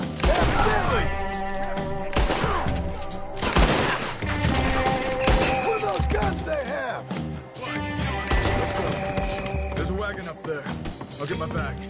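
Gunfire crackles in loud, rapid bursts with sharp cracks and thuds, close and repeated across the whole stretch, while voices can be heard in between.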